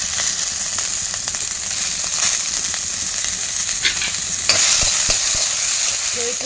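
Garlic cloves, a pinch of panch phoron and a chilli sizzle and crackle steadily in hot oil in a pan, with occasional stirring scrapes and a louder burst of frying partway through.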